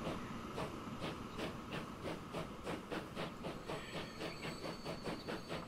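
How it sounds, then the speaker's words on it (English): Freight train passing in the video game Transport Fever 2, a regular clickety-clack of wheels over rail joints with a rumbling hiss, steady and fairly close, no talk. "We got a train coming through with freight on it."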